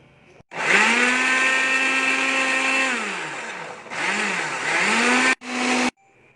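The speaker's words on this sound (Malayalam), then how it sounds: "ചെത്തിയ കഷ്ണങ്ങൾ നമുക്ക് മിക്സിയിലേക്ക് ഇട്ട് ഒരല്പം വെള്ളവും ചേർത്തിട്ട് നന്നായി അരച്ചെടുക്കണം" A mixer grinder blends peeled apple pieces with a little water, its motor whining loud and steady, dipping in pitch as it slows between short pulses and stopping abruptly near the end.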